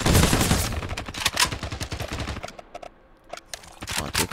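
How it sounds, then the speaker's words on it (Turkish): AK-47 rifle fire in a Turkish-made first-person shooter game: rapid bursts of loud automatic shots, a brief lull near the middle, then more sharp shots resuming close up with no talking. "AK-47."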